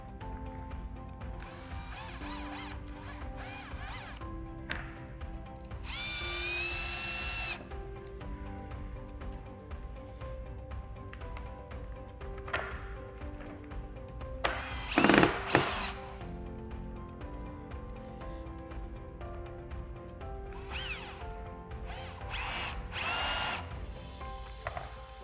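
A power drill whirs in several short bursts as screws are driven into the top of a tank to fit tank screens, with quiet pauses and small mechanical clicks between the runs.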